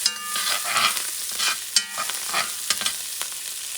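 Chopped garlic sizzles in oil in a pot for a one-pot halal chicken stew, with close, steady frying crackle broken by repeated scraping stir strokes, and no talking.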